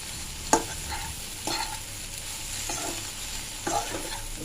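A spoon scrapes the pan a few times, spaced apart, as spiced masala dosa filling with chili powder fries, over a steady, soft sizzle of oil.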